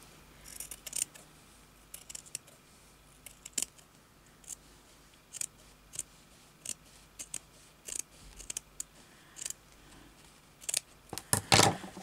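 Scissors snip through fabric for a slow-stitch embroidery needle book, with sharp, close cuts coming in separate irregular bursts and a quick run of snips near the end, alone without talk.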